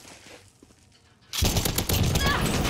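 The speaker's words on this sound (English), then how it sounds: "Oh, he's actually shooting back at me." Bursts of gunfire erupt in the Warzone video game, starting abruptly partway through and continuing loud and dense, a rapid fusillade of shots exchanged in a firefight.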